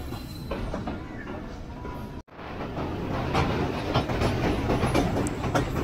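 A passenger train on the Karachi to Rawalpindi line rolls along the rails with a steady rumbling roar and rhythmic clatter, briefly cut by a sharp dropout before the loud, close running noise resumes.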